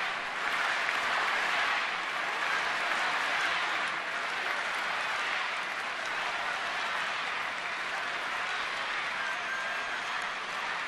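A big baseball stadium crowd of about 36,000 keeps up a broad, steady roar of cheering and clapping, sustained and evenly loud across the whole stretch with no distinct voices standing out.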